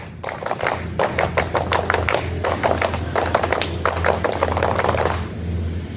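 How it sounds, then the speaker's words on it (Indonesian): A group of Scout members at an elementary school performs the rhythmic Scout clap twice, sharp sets of claps in quick patterned bursts with short pauses between, close and loud over a low background hum. "2 kali tepuk pramuka."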